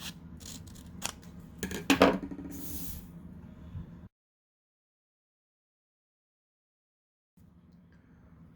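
Scissors snip through printed velocity tape paper in a few quick close cuts and rustles, then a stretch of near silence before faint room noise returns.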